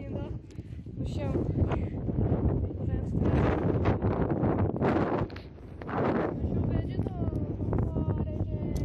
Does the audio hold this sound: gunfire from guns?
no